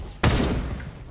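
A burst of gunfire in the mobile game Da Hood, one sharp loud crack followed by a brief rattling tail, close and dominating the short moment.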